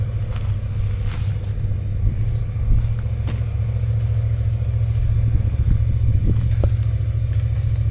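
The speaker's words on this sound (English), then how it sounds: "The neighbor started his car, fortunately." A neighbour's car engine starts and keeps running in the background, a steady low rumble that lasts throughout with faint clatter.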